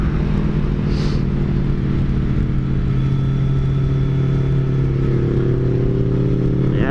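A Kawasaki Ninja Z900 motorcycle rides through curves on a cold road, its mid-pitched engine droning steadily and close with a slight rise in revs near the end, under wind rumble and no talk.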